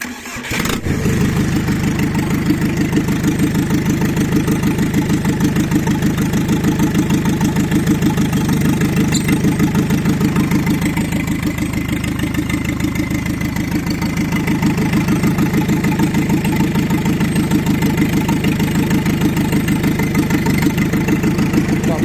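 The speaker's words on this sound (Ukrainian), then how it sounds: "Так, давайте зараз запустимо. Запускається легосенько." A homemade four-wheel-drive tractor engine cranks and catches within the first second, then settles into a loud, steady, throbbing mid-pitched idle that runs on evenly at close range with no talk.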